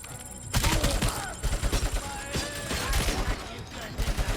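Heavy machine gun fire in the RoboCop: Rogue City video game, rapid rhythmic bursts of shots with mechanical clatter, loud and close, continuing for several seconds after a sudden start.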